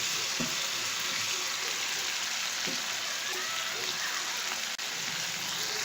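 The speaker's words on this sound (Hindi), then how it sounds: "अब इसके अंदर हम ये जिंजर गार्लिक पेस्ट ये ऐड करेंगे और इसकी अच्छे से भुनाई करेंगे" Ginger garlic paste fries in a pan with a dense, steady sizzle like light rain, close and continuous, with a few faint knocks of stirring.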